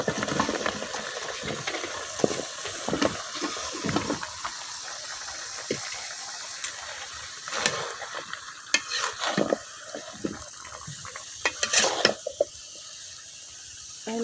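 Chopped bottle gourd is tossed into a pan with fish head masala and stirred, giving a steady soft sizzle broken by repeated scraping and clattering strokes of a spatula against the pan, fairly close, with no talking.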